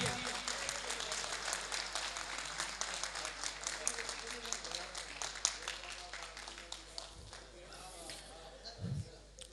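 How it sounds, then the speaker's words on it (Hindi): An audience claps in sustained applause at an award ceremony honoring a police officer, a dense patter of hands that slowly thins out, heard from a distance with faint voices underneath. "जोरदार तालियां होनी चाहिए।"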